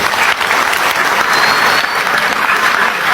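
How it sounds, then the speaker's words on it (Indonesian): An audience at an Islamic religious gathering claps loudly and continuously for a few seconds, a dense, close wash of applause with no voices over it. "Tepuk tangan buat beliau."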